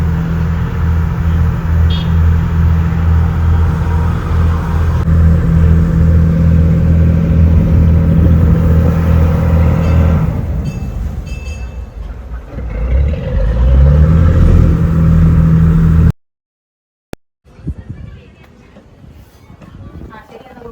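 A passenger ferry boat's engine runs loud and steady while crossing a lake in Kerala's backwaters, a low droning rumble with a hum, then shifts and fades before cutting out.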